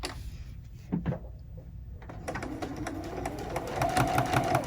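A sewing machine stitches a quilt binding with a quarter-inch seam, a soft rapid ticking that starts after a brief pause and runs steadily, close and fairly quiet.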